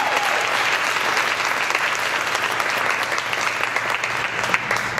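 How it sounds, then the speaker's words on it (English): Sustained audience applause at a charity giving-circle event, a dense steady wash of clapping that holds at an even level throughout without breaks. "a big round of applause is deserved by each of them"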